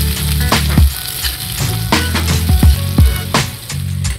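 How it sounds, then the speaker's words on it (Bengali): Onions with chopped garlic, green chilies and dried chilies sizzle loudly in hot oil in a pan, the constant crackle punctuated by repeated scraping and knocks of a spatula stirring them, close and without speech. "রসুন কুচি, কাঁচা লঙ্কা, শুকনো লঙ্কা সবগুলোকে কাটে দিয়ে পেঁয়াজগুলোকে ভেজে নেব লালচে করে।"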